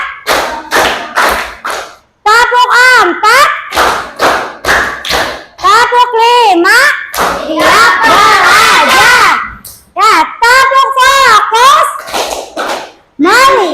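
Children in an Indonesian classroom chant in unison while clapping sharp rhythmic beats, with loud sung voices and claps alternating in bursts close by.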